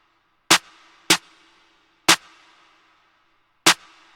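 Sparse snare hits layered with a clap land four times in an uneven pattern, each a sharp bright crack with a short noisy tail, alone and fairly loud.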